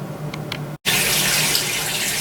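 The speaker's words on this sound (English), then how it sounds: "and rinse, and clean again and rinse" Tap water rinsing a Honda CB400 VTEC engine head indoors, a loud steady gushing splash that cuts out for a moment and then resumes at full flow.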